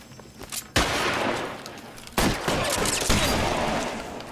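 Gunfire in the video game LA Noire comes as loud, sharp shots that break into sustained volleys, with a few separate cracks leading into dense bursts that ring and echo, and no talk.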